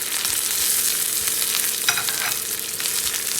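Grated coconut and a sprig of curry leaves roasting in a pan for Kerala-style pumpkin and bean erissery, giving a steady close sizzle with scraping stirring strokes throughout and no talk.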